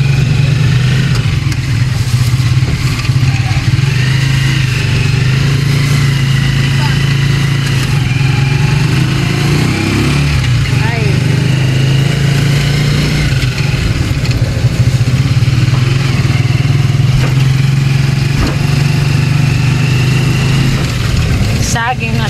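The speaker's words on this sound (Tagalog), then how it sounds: "nag-tricycle na lang po ako" A small motorized tricycle engine drones loudly and continuously, close by. Talk is mixed in underneath and the pitch dips briefly midway.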